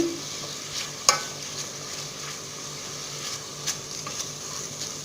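Meat fries in melted butter for a tagine, giving a soft, steady sizzle close by with a couple of sharp stirring knocks and no voices.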